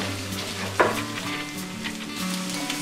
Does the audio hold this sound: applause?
no